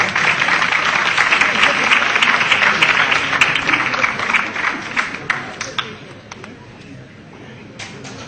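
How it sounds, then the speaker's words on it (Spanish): Audience applause at a conference, dense sustained clapping from a crowd that gradually thins to scattered claps. "Un aplauso todos los españoles."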